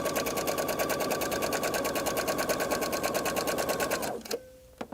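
Sewing machine stitching a seam on a shirred top, a loud rapid steady needle clatter that runs for about four seconds and then stops, followed by a few faint clicks.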